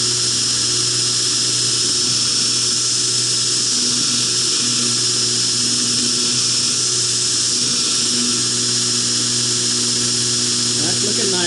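A steady electric grinder hum runs throughout while a knife blade is ground, a high whine held level with low motor tones and no break in the sound.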